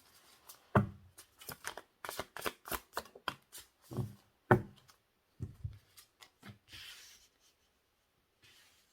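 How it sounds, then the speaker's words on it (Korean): Tarot cards are shuffled and drawn by hand: a quick run of crisp, close card flicks and slaps in uneven bursts, then a few softer slides and taps before falling quiet. "현재 두 분의 관계 모습 카드 뽑았어요."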